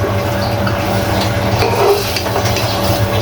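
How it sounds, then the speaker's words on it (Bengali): A fish head sizzles in a hot frying pan as it is lifted out, a steady close crackle of oil with faint scraping and utensil clinks, no talking. "মাছের মাথাটা আমার কষানো হয়ে গিয়েছে। আমি এখন মাথাটা তুলে ফেলবো।"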